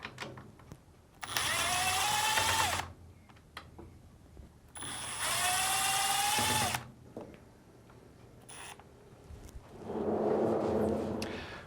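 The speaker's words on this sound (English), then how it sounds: "and remove the two screws." A power screwdriver or drill backs out the screws on a Samsung washing machine lid hinge, two loud sustained whirring bursts with a rising whine, separated by quieter clicks and handling, then a softer third burst.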